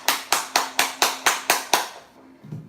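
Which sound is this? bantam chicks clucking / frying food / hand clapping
hand clapping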